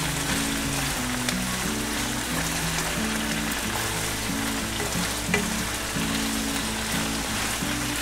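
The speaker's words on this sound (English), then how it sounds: "Then I saute that in." Chicken fajita ingredients sauté in a pan with a constant dense sizzle and crackle, steady throughout, with no talking.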